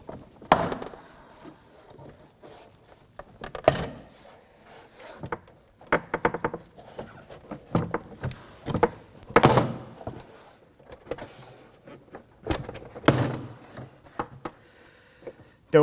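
Repeated scraping, creaking and popping of a 2003-2014 Volvo XC90's plastic door trim panel being pried loose, irregular bursts over quiet gaps, close by, with occasional low talk.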